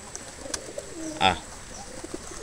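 Pigeons coo quietly at a home in Barishal, with one brief, soft coo and a few faint calls over low background noise.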